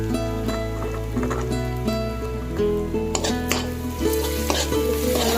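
Pork frying with turmeric and meat masala sizzles loudly in a pan, with repeated stirring scrapes and clanks of a utensil against metal throughout and no voices.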